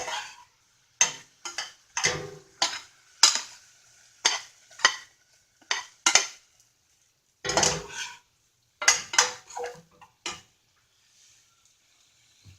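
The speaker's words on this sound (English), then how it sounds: "The brown sugar is bubbling nicely with the juices of the apples." Apples sautéing in bubbling brown sugar in a pan, heard as short bursts of scraping and clattering from a spatula against the pan, separated by near-silent gaps, close and fairly quiet.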